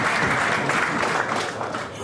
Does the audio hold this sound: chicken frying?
no